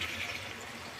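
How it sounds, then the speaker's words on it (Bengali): Water poured into a pan for a thin Bengali fish curry, a steady soft splash and trickle lasting about a second, close by and with no talking. "দিয়ে দিলাম জল"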